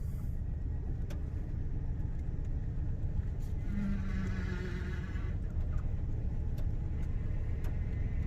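A 1978 Oldsmobile Cutlass barn find idles with a steady, close low rumble that continues unbroken, with faint clicks and a brief rise in engine tone midway.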